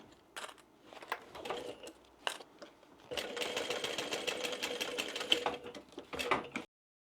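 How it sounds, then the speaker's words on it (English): A sewing machine top stitches along the edge of a bag, starting with short stop-and-go bursts and then settling into a steady, rapid mechanical chatter before cutting off abruptly. The sound is fairly quiet and there is no talking. "we're going to top stitch along that edge."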